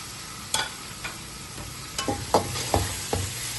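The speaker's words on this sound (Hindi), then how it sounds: "चिकन को अच्छे से हमने फ्राई कर लेना।" Boneless chicken pieces fry with garlic in a pan, a low steady sizzle broken by several sharp scrapes and clicks of stirring, close and fairly quiet, with no talking.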